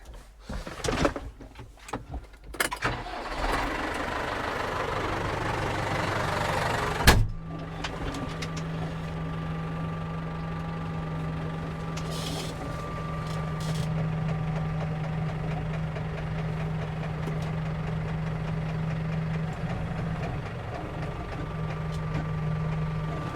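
A few clunks and rattles, then an engine cranks and catches with a sharp thump, settling into a steady, low idling rumble that runs on.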